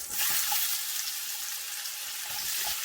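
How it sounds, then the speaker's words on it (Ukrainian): Close, steady sizzling of pears frying in butter in a hot pan, with a few soft clinks and stirring noises. "ми відправляємо на сковорідку масло, кладемо наші груші"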